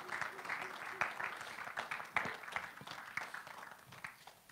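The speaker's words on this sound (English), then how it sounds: "So you need to give a big round of applause for Jonty and Kira" A church congregation applauds with dense, steady clapping at moderate volume throughout, with a few sharper claps standing out.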